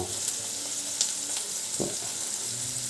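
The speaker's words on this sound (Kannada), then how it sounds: "ಉಪ್ಪು ಹಾಕಿದರೆ ಈರುಳ್ಳಿ ಬೇಗನೆ ಬಾಡುತ್ತೆ ಈರುಳ್ಳಿ ಕೆಂಪಗೆ ಬರೋವರೆಗೂ" Onions with salt fry in a pan with a steady close sizzle, broken by a few soft clinks and stirring scrapes.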